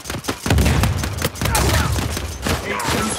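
Multiplayer gunfight in Uncharted 4: sharp shots and thuds crack out in a rapid cluster, loud and close, with a voice speaking over the action.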